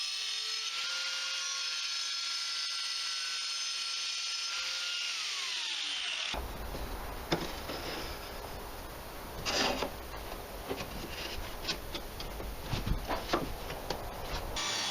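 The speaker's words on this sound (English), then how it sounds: "I cut another piece of slate to go in the corner using a stone cutting disc in the angle grinder." An angle grinder fitted with a stone cutting disc bites into slate, starting with a high steady whine before the harsh, gritty cutting noise takes over and rises in uneven bursts.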